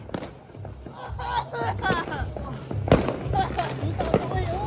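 New Year's Eve fireworks and firecrackers in Germany crackle and pop in dense, irregular bursts near and far, with celebrating voices talking and shouting over them throughout.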